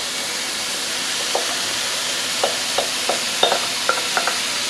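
Mixed vegetables being stirred into lobster pot pie filling in a pan, a steady soft sizzle and hiss with a series of light scraping stir strokes, close and moderately loud.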